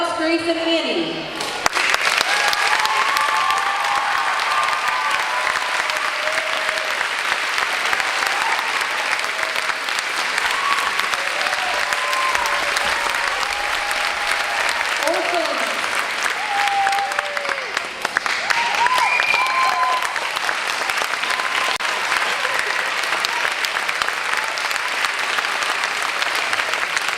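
At a night performance of the school musical Annie Jr, a large audience applauds the cast loudly and continuously, with cheers rising above the clapping and a voice speaking over the crowd partway through.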